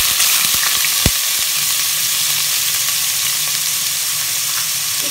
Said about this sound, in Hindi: 1 कप ऑयल डाला, जो मेरे पास कुटे हुए जो प्याज थे मैं वो डालने लगी हूँ